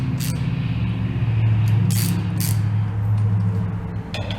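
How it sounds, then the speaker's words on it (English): A wrench ratchets on a headlight bolt of an Indian Scout Bobber, quick clicking pawl strokes in short bursts over a steady low mechanical hum. "Then I'll put a wrench on it for the rest of it."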